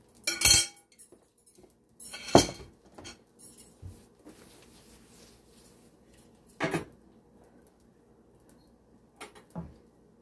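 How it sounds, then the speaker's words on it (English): A pot on the stove being stirred while cooking a Jamaican breakfast: a few sharp metallic clinks and scrapes of a utensil against the pot, spaced irregularly over a low background, close and fairly loud. "Let's keep stirring."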